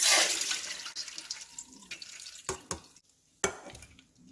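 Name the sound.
water draining from soaked urad dal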